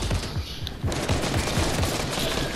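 Gunfire in the video game Fortnite, with a sniper taking shots at the player. A rapid string of sharp, evenly spaced bangs comes up close and loud over a dense background of game noise.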